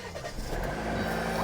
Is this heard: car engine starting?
yes